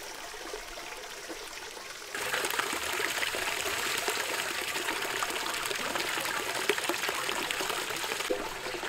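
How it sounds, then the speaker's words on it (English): Water emptied out of a handmade Viking drinking horn outdoors in nature, a faint quiet start followed by a steady, close trickling pour that runs for several seconds before easing off. "After 1 hour, I empty out the horn."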